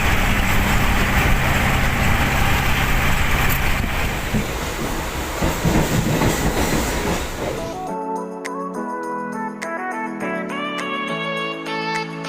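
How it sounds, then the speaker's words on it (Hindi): A metro train runs with a continuous loud rumble and rush for about eight seconds, then the noise drops away to quieter rhythmic clicking and tonal chimes inside the carriage. "हम जा रहे हैं मेट्रो में।"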